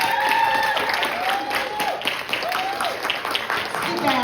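An audience at a youth bike awards night applauds the parents standing up, a dense patter of clapping running for several seconds beneath overlapping voices and cheers.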